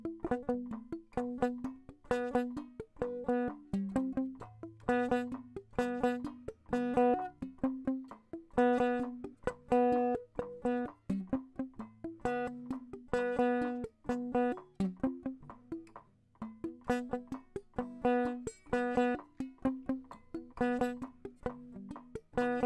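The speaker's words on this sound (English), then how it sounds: "selective picking exercise that sounds like this" Single guitar notes played as a selective picking exercise in a quick, even rhythm, a steady run of clean plucked tones repeating a pattern, moderately quiet and alone.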